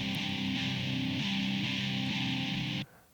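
Isolated guitar tracks from an EP mix, washed in heavy reverb, play as a dense sustained wall of chords with shifting notes for nearly three seconds before cutting off abruptly into a faint tail.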